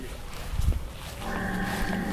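A Red Brahman bull or cow lets out a single drawn-out, nasal moo that rises and holds steady after a brief thump, heard fairly close and loud against farmyard background noise.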